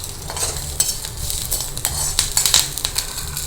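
Urad dal roasting in a pan, a soft dry rattle and sizzle with scattered scraping clicks as the lentils are stirred, fairly close under a low background hum, no one talking.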